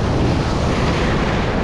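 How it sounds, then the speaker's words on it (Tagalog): Ocean wave crashing over someone fishing off Ternate, Cavite, a loud, dense roar of rushing water and wind buffeting the microphone. "kinahampas ako ng alon"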